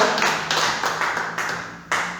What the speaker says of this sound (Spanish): Denle una ofrenda de palmas a nuestro Dios.